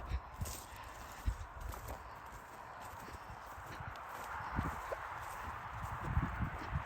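Horses' hooves clip-clop at a walk on hard ground at a horse sale, irregular steps close by over a steady outdoor hum.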